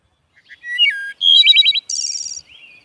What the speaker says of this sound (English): the most interesting of all are the songbirds, like the wood thrush